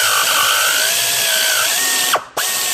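Ford Triton engine with a spark plug thread insert being drilled out by a power drill, a loud, close, steady whine whose pitch sags under pressure, then a brief cut-off and restart.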